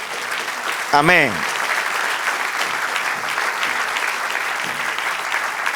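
A church congregation applauds steadily throughout a Spanish-language sermon, with a voice calling out briefly near the start over the continuous clapping.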